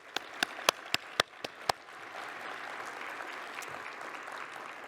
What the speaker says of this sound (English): join me in one more round of applause